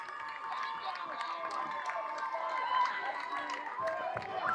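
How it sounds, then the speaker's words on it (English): Crowd of football fans applauding and cheering their team after a lost varsity match, steady clapping at moderate distance with a commentator talking over it. "Good applause from the Staffs fans for their team, even though they lost tonight."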